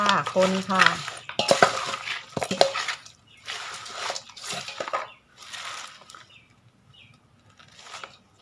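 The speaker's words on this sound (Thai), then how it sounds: "คนไปเรื่อยๆนะคะคนให้เข้ากัน" Vegetables being stirred into a catfish and dill mixture for Thai steamed curry (mok pla duk), with repeated clattering utensil scrapes and bursts close by in several separate strokes, and a voice talking at the start.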